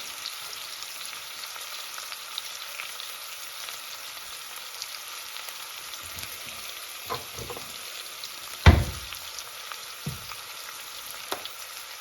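Three small onions sizzle steadily in a pan for chicken biryani, a soft continuous hiss broken by a few clattering stirs and one sharp knock near the end.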